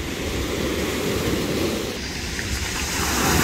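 Sea waves breaking against rocks in a bay near Vladivostok, a continuous broad rushing wash heard from a distance, steady and moderately loud without voices.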